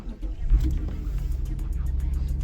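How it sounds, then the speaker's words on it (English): A Mitsubishi Legnum VR-4 Type S engine makes a cold start in snowy conditions, heard close up as a low, steady rumble with a brief surge at the start. "Let's do a cold start."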